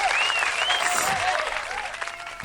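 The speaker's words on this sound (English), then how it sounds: "Round of applause." Dense applause from a television studio audience rolls on for a couple of seconds, with a voice talking over it.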